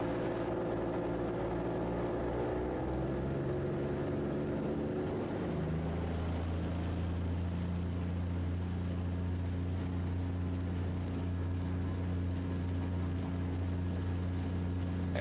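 A Raptor prototype aircraft engine drones steadily during a high-speed runway taxi, its pitch shifting partway through and then holding as a loud, continuous hum.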